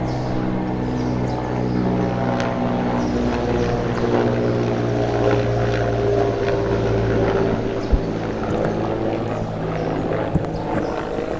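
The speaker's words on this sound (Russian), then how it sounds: "Один вертолет и второй вертолет охраны." Two guard helicopters fly past escorting a presidential flight, a steady droning rotor and engine hum holding loud and even throughout with strong low tonal bands, no talk over it.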